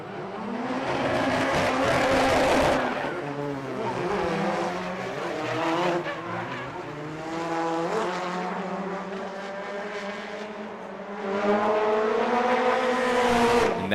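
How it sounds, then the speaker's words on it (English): A BMW E46 drift car powered by a Honda K24 engine screams past at a drift competition on a speedway, revs rising and falling in long sweeps with tire squeal, loud and alternating between near passes and more distant stretches. "That is a Honda K24 powered BMW E46."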